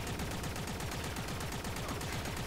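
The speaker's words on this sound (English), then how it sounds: "When we're firing this many bullets, it's gonna proc status quite often." The Rattleguts kitgun fires a rapid, continuous stream of bullets in the video game Warframe, a dense rattling burst at a steady rate with no pauses, heard alone.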